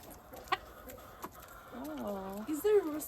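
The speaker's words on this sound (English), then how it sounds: "Oh, here comes the rooster." A rooster and chickens cluck on a farm during chores, a few sharp clucks early, then a drawn-out, rising and falling call near the end, with people talking softly.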